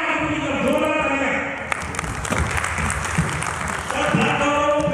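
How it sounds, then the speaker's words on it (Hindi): Loud, steady applause fills a crowded hall at a blockchain business leadership event in Raipur, Chhattisgarh, a dense continuous patter of clapping with some voices mixed in throughout. "जोरदार तालियां"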